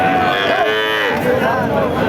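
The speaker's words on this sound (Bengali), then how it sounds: "শঙ্কর জাতের একটা গাবি আপনারা দেখতে পাচ্ছেন" A crossbreed dairy cow at the Chougachha cattle market lets out one loud, close, drawn-out moo that wavers in pitch, with no talking over it.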